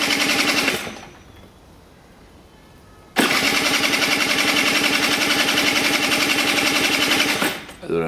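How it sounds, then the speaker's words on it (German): Italjet scooter engine cranking on its electric starter, a loud rapid mechanical chatter that cuts out, pauses, then resumes for several seconds before stopping, recorded up close. "drehe jetzt hier mal den Zündschlüssel rum und versuche mal zu starten"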